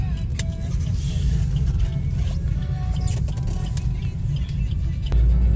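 A car travels along a road on a Konkan coastal trip from Pune toward Alibag, a steady low engine and tire rumble continuing throughout, with a brief louder surge near the end.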